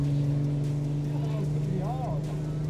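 A TVR sports car goes by near Donington, its engine note a steady drone that swells and bends in pitch as it passes, heard from inside another running car with excited voices talking over it.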